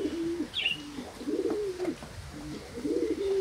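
Pigeons coo on a balcony in low, rolling phrases that repeat steadily, close and clear, with a brief higher chirp early on and no talking.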